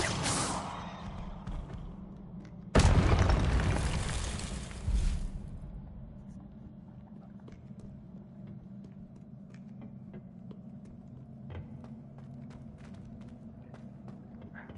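Confringo, the explosive spell in Hogwarts Legacy, goes off as a sudden loud blast that rumbles and fades over a couple of seconds, with a smaller burst after it, over a steady low game ambience and faint clicks.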